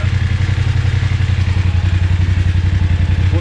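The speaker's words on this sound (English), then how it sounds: "we have a test ride on the BMW 850 GS Rallye, the 2021 model" A 2021 BMW 850 GS Rallye motorcycle engine runs steadily and loud and close, its rapid pulsing exhaust beat rumbling on without a break and with no voices.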